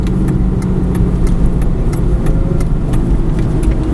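An Aston Martin V8 Vantage engine hums loudly close by on a track lap, holding a steady drone as the car accelerates, with faint ticking clicks over it.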